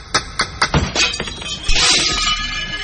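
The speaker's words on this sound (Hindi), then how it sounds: "खिड़की का शीशा चूर चूर होके पूरे कमरे में फैल गया।" Window glass is knocked on and then shatters: several sharp raps in a row, then a bright crash of breaking glass that spills into a lingering tinkle, close and loud with no talk.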